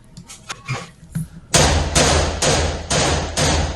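A rifle fired with its muzzle booster removed, throwing a fireball. The shots come as a series of loud, sharp blasts, about five in under two seconds, each followed by a short roar. Softer thumps and taps come first.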